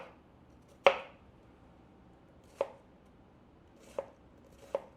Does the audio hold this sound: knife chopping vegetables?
yes